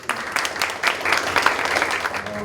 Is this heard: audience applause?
yes